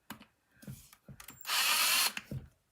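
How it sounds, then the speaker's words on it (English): Power drill boring pinholes into a pumpkin along chalk-drawn lines, heard as several short whirring bursts near and loud, then one longer sustained run before a final brief burst, with quiet gaps between. "I'm just using the drill and I'm going to follow the lines"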